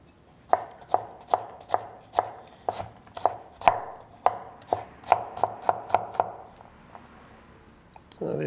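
A knife chopping garlic into big rustic chunks for paella, roughly a dozen and a half sharp thuds on a cutting board in a steady rhythm, close up, before a brief shuffle near the end.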